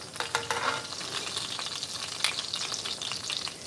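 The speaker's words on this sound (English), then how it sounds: "Cover it up. Let it simmer like I would if I was making dirty rice" Meatballs simmer in their own juices in a covered pan, giving a soft continuous sizzle and bubbling with a few faint clinks, fairly quiet and without talk.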